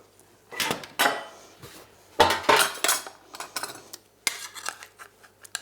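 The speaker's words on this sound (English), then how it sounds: "You're going to be using a spoon to just remove the skirt." A metal spoon scrapes the skirt off a raw scallop in its shell, making several close, short scraping and clinking bursts with quiet gaps between them and no talking.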